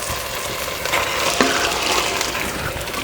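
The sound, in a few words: masala frying while being stirred in a pan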